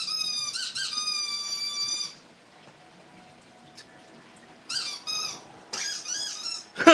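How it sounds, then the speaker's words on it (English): A dog's squeaky ball toy is squeezed in quick runs of high, sharp squeaks: a burst at the start, a quiet pause, then two more bursts, close up and with no talking. "Squeaky ball."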